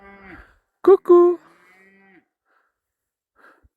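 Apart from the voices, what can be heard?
cow mooing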